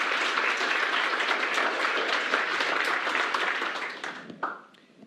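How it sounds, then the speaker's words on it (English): Audience applause after a presentation at a conference talk, a dense, steady wash of many hands clapping that holds evenly, then thins and fades out with a few last claps near the end. "can we please just give her another hand of applause for delivering such an amazing presentation?"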